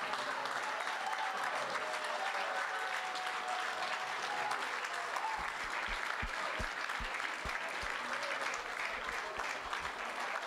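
An audience in a hall at a high school Hall of Fame induction ceremony gives sustained applause for the inductees, a continuous, moderately distant roar of clapping with a few low thumps partway through.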